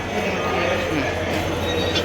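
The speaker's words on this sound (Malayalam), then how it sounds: "അമ്മയപ്പേട്ടിലേക്ക് പോകാൻ വേണ്ടിയിട്ട് നമ്മൾ മെട്രോ സ്റ്റേഷനിൽ ടിക്കറ്റ് എടുക്കാൻ പോവാണ്" Rumbling rail noise of a metro train moving through a station, steady and fairly loud with a broad low hum and some metallic high-frequency hiss throughout, no clear speech over it.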